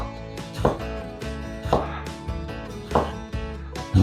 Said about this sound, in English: And then slice them up.